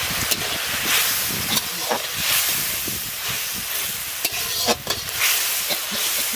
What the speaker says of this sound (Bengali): এবার আমি মশলাটা খুব ভালো করে কষিয়ে নেব।